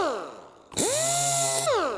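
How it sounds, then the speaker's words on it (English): Power tool with 1200-grit abrasive polishing the mating surface of a Mercedes M113 engine oil cooler, a close, loud whine spinning up quickly, holding steady for about a second, then winding down. "We're just polishing surfaces so that it cleans up nice."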